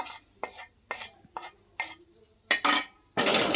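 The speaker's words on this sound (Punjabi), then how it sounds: "ਇਹ ਮਸਾਲਿਆਂ ਨੂੰ ਆਪਾਂ ਹੁਣ ਕੁੰਡੇ 'ਚ ਪਾ ਲੈਣਾ ਇਹਨਾਂ ਨੂੰ ਮੋਟਾ-ਮੋਟਾ ਜਿਹਾ ਕੁੱਟ ਲਾਂਗੇ" Roasted whole spices being pounded coarsely in a mortar, a series of about nine sharp, dry knocks at an irregular, steady pace, close and clear.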